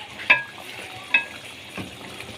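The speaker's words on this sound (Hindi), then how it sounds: "अच्छे तरीके से इसको भूनेंगे। अच्छे तरीके से आपने इसकी बुनाई करनी है मसाले की।" Chicken feet masala fries in oil in a pan with a soft sizzle, punctuated by a couple of sharp scraping stirs, close and with no talking.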